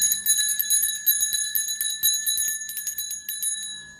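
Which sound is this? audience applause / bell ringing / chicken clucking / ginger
bell ringing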